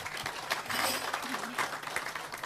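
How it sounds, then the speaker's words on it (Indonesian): Audience applause breaks out at a Cak Nun talk gathering, a dense, steady patter of many hands clapping throughout, fairly close and without a break. "Tepuk tangan sekali lagi."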